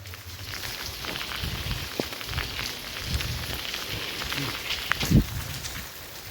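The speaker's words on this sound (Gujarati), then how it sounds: "વરસાદ ચાલુ જ છે" Steady rain falling in a village during an unseasonal downpour, a constant close patter on surfaces with a few louder drips and thuds.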